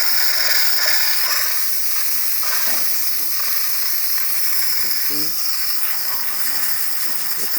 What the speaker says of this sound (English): now we're going to test the steam function